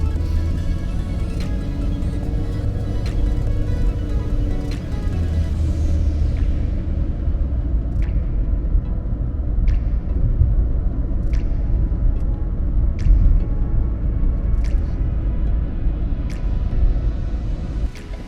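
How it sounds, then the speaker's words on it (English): A 2020 Ford Fusion SE accelerating through its six-speed transmission, heard from inside as a steady, loud engine and road rumble that surges and eases with the gear changes, with no talk. "I'm going to kind of give it a little bit of gas, feel how it goes through its 6 gears as far as the transmission."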